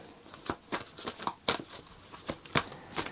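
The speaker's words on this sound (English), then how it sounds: "I need to shuffle these cards again" Tarot cards being shuffled by hand, a run of soft, crisp riffling snaps and flicks in irregular bursts, quiet and close with no voices.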